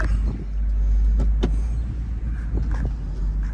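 A 2006 Mercedes SL500 with coilover suspension pulling out into the street, a close steady low engine rumble with a few brief knocks and clunks over the idle.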